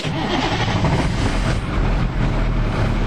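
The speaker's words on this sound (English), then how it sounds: "in my old International here, let's see if it'll fire up" A 1984 International S1700 truck with a 9-liter diesel engine turns over and runs on a cold snowy day, a loud, steady low rumble that continues throughout with no pauses.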